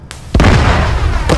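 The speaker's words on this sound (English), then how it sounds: "that was a big explosion" A single big explosion in the Arma 3 video game erupts loudly and close, a sharp burst followed by a sustained roaring rumble that lingers and swells again.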